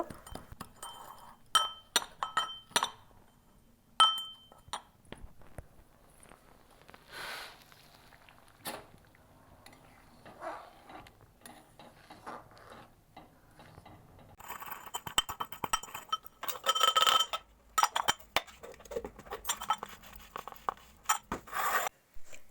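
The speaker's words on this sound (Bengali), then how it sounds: "তাই আমি মিছরিটা একটু গুঁড়ো করে নিলাম" Rock sugar candy (misri) is crushed into powder, making scattered glassy clinks and crunching taps that come irregularly and grow into denser, louder grinding bursts toward the end.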